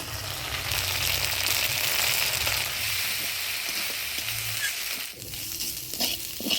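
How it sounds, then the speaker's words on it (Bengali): Moong dal lightly frying in a pan, a steady broad sizzle throughout with occasional stirring scrapes, close and moderately loud, settling slightly quieter near the end. "মুগ ডালটা আমি হালকা ভাজিয়ে নিলাম"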